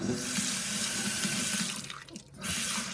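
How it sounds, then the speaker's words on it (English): Dirty water from washing makeup brushes drains out of a sink in a steady, close gurgling rush, thinning briefly near the end before surging again, with no voices. "I'm just going to go ahead and drain that nookie water"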